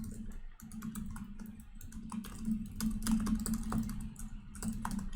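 Steady, rapid clicking of laptop keys, close and continuous, with a low hum underneath and no talking.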